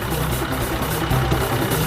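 Large diesel engine running steadily, a dense continuous low rumble at constant loudness with no voices over it.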